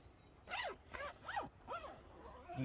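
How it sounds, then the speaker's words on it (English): A zipper on a hammock's bug net is pulled in four quick, smooth strokes, each a soft rising-and-falling zip, quiet and close with pauses between. "These zippers are so smooth, I love it."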